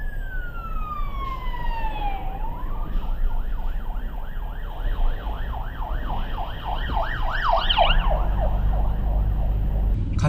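An ambulance siren passes on a road in Vancouver, starting as a long falling tone and then switching to a fast, steady wail that grows louder over traffic rumble.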